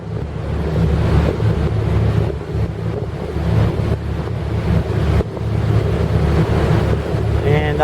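Two boat engines in gear, cruising slowly at about 4 knots on calm river water, a steady low drone with wind and water noise running throughout.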